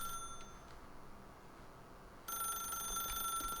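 In The Stanley Parable, a telephone rings with a thin electronic trill over a quiet room tone, then cuts to a brighter, louder ring partway through.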